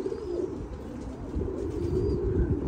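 Pigeons cooing inside a pigeon loft, low repeated throaty coos close by with a faint chirp or two over a soft background.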